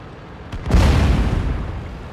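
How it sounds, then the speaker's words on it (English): A loud, close artillery explosion in a tank battle video game, a single deep boom that swells quickly and rumbles on with a long low tail, with no talking. "And there's the artillery trying to make friends."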